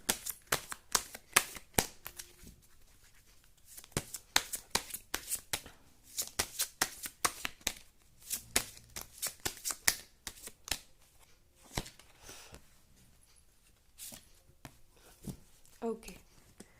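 Tarot oracle cards from a True Lover Oracle deck being shuffled in quick bursts of crisp riffling and flicking, close and fairly quiet, pausing and resuming repeatedly while a person speaks.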